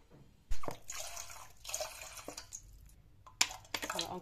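Water is poured into an instant tomato and mozzarella pasta pot in several separate splashing bursts, close and fairly loud, with quiet gaps between them.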